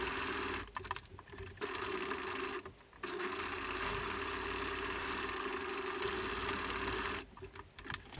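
A sewing machine stitches the side seams of a mask headband in steady, close runs, with brief pauses between them and one near the end.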